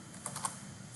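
Keys tapped on a computer keyboard while entering Java code for an Android image view, a few soft clicks over a steady low hum with no voices.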